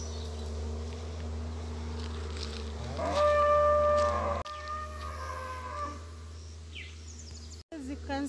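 A cow in a Kenyan village lets out a long, loud moo that rises and then fades, heard up close over the low engine hum of a passing tractor.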